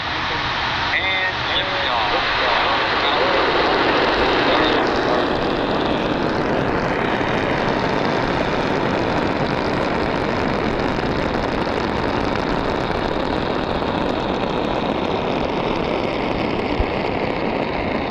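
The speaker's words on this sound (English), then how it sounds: "We caught the SpaceX Falcon 9 launch on May 21st from right here in Florida." A SpaceX Falcon 9 launch heard from a boat in Florida produces a continuous, heavy broadband roar that swells and then holds steady for the whole stretch, far off but loud.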